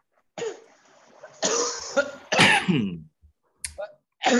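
Several harsh, close coughs come in quick bursts separated by short silences, ending with a sharp final cough.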